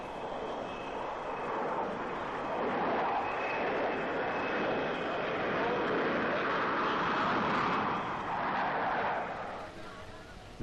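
Steady roaring drone of aircraft engines at a busy Calcutta airport, a loud continuous wash that swells slightly mid-way and eases off toward the end, with no pauses.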